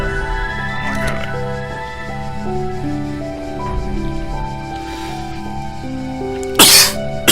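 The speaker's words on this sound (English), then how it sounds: "Pardon my cough." A single sharp cough bursts out near the end, loud and close, over sustained melodic tones from a puzzle video game.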